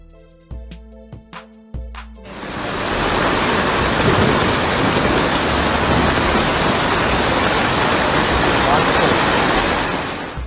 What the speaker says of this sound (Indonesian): Hujan deras yang dibawa oleh hujan dan badai krem dan tropis Choywan yang mendekat menyebabkan banjir parah di banyak bagian Taipei